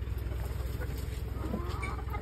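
Chickens let loose to roam in an open yard cluck softly nearby, a few short calls over a steady low hum.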